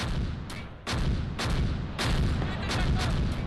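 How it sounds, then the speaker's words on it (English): Mortar and artillery fire in the World War II strategy game Close Combat near Colleville, a dense rumble of booming blasts and heavy impacts landing one after another. "Mortars everywhere."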